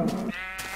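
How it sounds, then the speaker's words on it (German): Sheep in Minecraft 1.0 give a single close bleat, a short wavering cry that fades quickly, alone with no talking. "Zwei Schafe, schwarze."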